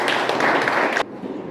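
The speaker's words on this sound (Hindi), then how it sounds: "आइए जोरदार तालियों से उनका स्वागत करें" An audience at a poetry gathering in Mumbai claps to welcome a poet, a dense, close burst of applause that stops abruptly after about a second, leaving a quiet room.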